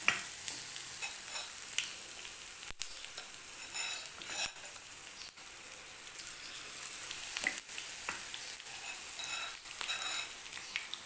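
Green chillies coated in besan batter crackle and sizzle steadily in hot oil, a dense continuous frying hiss with scattered sharper pops throughout, no voices.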